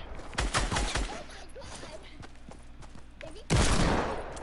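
Shooter video game gunfire: a short burst of shots near the start, then a louder, sharper blast with a decaying tail about three and a half seconds in, with quieter game sounds between.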